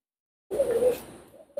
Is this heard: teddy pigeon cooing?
yes